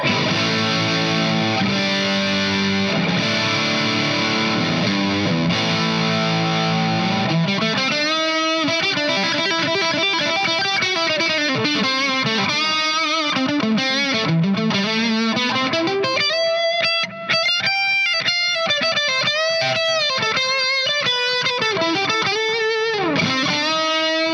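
A Fender electric guitar with distortion plays sustained chords, then moves into bending, gritty lead lines, loud and continuous throughout.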